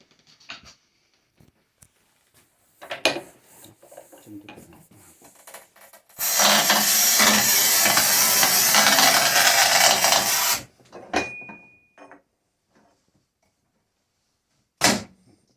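A manual tile cutter scores ceramic tile with a loud, sustained grinding rasp lasting about four seconds, framed by scattered clicks, scrapes and handling knocks, and a sharp snap near the end.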